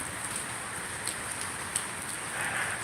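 Heavy northeast monsoon rain falls steadily at night at a house, a dense, even hiss with faint patter and no voices.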